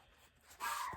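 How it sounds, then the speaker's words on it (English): A single short dog bark lands near the end, close and fairly sharp, following quiet room tone. "That's my dog barking."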